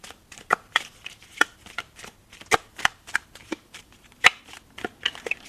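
Tarot cards being shuffled by hand, a run of crisp snapping riffles and soft slaps in irregular bursts, close up and alone without talk.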